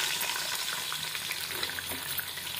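Sliced onions sizzle steadily as they drop into hot tempering oil spiced with cloves, a dense, even frying hiss with no talk over it.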